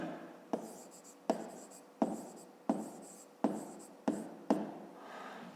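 Pen writing on paper during a 5th-grade math exercise, several sharp taps at a steady rhythm, each followed by a brief scratchy stroke, close and quiet with no voice.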